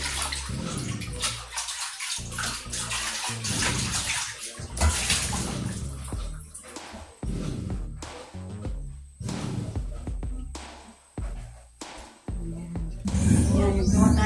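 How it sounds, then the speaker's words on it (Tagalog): Fish are washed under running water in a kitchen sink, a close, steady splashing flow broken by short gaps and sloshing as the fish are handled. "Kasi tayo maglinis ng isda at maghugas."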